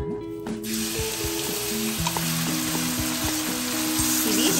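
Chopped onions sizzle loudly in hot oil in a kadai, a steady close frying hiss with occasional stirring knocks and no voices.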